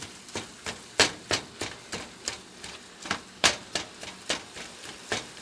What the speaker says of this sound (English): You just want to keep on getting after it with the spatula